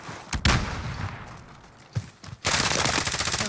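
Gunfire in Warzone, a few sharp close shots and then a loud sustained burst of rapid automatic fire, with no talking.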